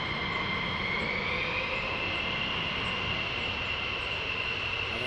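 Military jets taxi at RAF Lakenheath, a continuous loud engine roar and whine holding steady throughout with no pauses and no voices.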